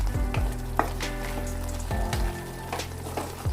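Spicy Andhra-style chicken fry with roasted masala stirred in over a high flame: loud, close sizzling and frying, with repeated scraping stirs of a spoon against the pan.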